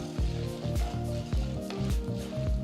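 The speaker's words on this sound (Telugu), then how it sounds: "ఇందులో ఒక టేబుల్ స్పూన్ అంత పచ్చిశనగపప్పు ఒక టేబుల్ స్పూన్ అంత మినపప్పు వేసి వేయించాలి" Chana dal and urad dal fry in oil in a pan with a steady close sizzle, mixed with a tonal background layer and no speech.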